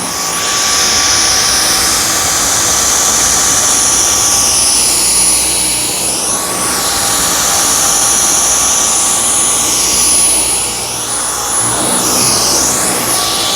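A Dyson V10 cordless vacuum cleaner runs on a matted rug, giving a steady, loud high-pitched whine with a jet-like roar that shifts slightly in pitch as it moves, with no talk over it.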